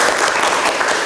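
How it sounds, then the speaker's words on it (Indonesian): Loud, dense applause from a university teaching-session audience, continuous clapping filling the whole moment without any speech. "Oh, kita tepuk tangan dulu dong."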